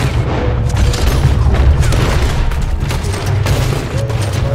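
Rapid, overlapping gunfire in a Red Dead Redemption 2 shootout, a dense continuous barrage of booming shots over a low rumble, loud and steady throughout with no talking.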